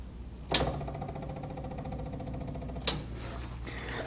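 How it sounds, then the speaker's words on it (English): An electric pump kicks on with a sharp click, then runs with a steady buzzing whir, and a second click follows near the end, close and fairly quiet with no talk. "once I turn it on, it lights up, and you can also hear the pump kick on"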